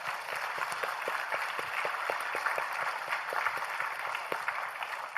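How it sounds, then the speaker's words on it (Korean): A church congregation applauds during a worship service, a steady wash of many hands clapping at moderate level with individual claps poking through, sustained for several seconds without talk. "우리 하나님께 영광의 박수합니다."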